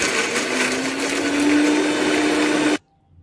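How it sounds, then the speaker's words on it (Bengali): A close electric blender grinds spice paste with a loud, steady motor whine that rises slightly in pitch, then cuts off abruptly, leaving near silence for the final half second. "এবার আমি এটাকে ব্লেন্ড করে নিব"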